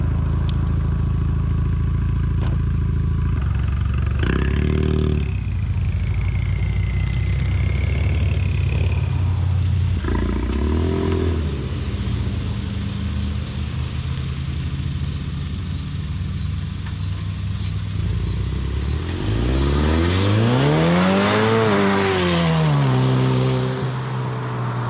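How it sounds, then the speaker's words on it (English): A car with fresh grippy tires makes gentle boost launches on a street, its engine rising and falling through several moderate revs, ending in a strong climbing acceleration swell close by, with no talk. "That was a very soft boost launch."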